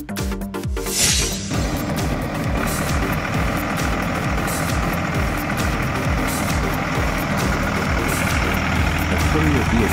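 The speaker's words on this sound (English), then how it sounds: "Delivery car." A delivery car's engine idles with a steady low rumble and knocking pulses, preceded by a short burst of louder noise at the start.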